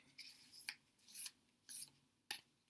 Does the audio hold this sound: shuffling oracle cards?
yes